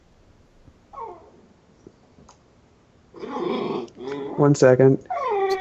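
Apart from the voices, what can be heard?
dog growling and whimpering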